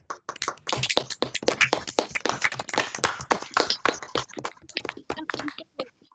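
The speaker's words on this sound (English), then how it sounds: "Another big round of applause for Brandon, please." A small group claps for a speaker at an online journalism industry day, sparse, uneven hand claps from a few unmuted microphones, close and somewhat choppy, thinning out toward the end.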